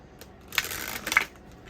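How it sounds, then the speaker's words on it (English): Deck of fortune-telling cards being shuffled, two quick riffling bursts of papery flutter about half a second apart, close and brief with no talking. "Oh wow, I really love the way these shuffle."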